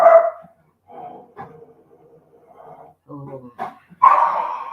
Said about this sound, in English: this Bianca is my noisy dog